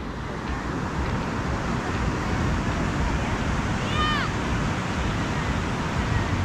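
Steady roaring wash of surf on a beach in Seminyak, Bali, fills the scene, loud and constant, with a brief high chirp partway through and no clear speech.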